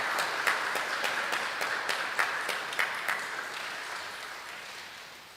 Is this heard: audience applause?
yes